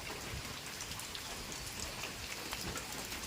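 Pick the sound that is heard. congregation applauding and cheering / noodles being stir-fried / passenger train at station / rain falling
rain falling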